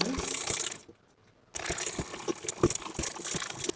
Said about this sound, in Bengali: রাবারটাকে দুই পাশে টেনে এভাবে আস্তে আস্তে সেলাই করে নিতে হবে